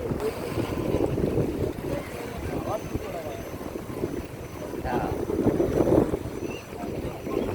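Fishing boats and trawlers at sea near Digha, returning in a line from fishing: steady boat and engine rumble mixed with wind buffeting the microphone and splashing water, with faint voices in the background.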